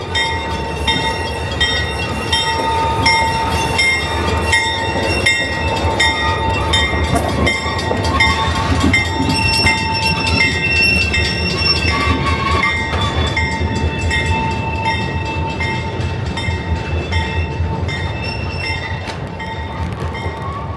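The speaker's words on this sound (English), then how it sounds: "you hear it? It's a train." An old-timey train rolls past in New Hope, loud and close for the whole stretch, with steady wheel rumble and clatter and sustained horn-like tones ringing above.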